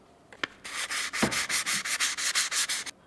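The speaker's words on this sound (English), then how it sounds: "Now I'm using wet sandpaper and sanding with grit P800, then P1200 and up to 2000." Wet sanding a race foil by hand with fine-grit wet sandpaper, P800 up through 2000 grit: about a dozen close, rhythmic back-and-forth rubbing strokes in steady succession, with no voices.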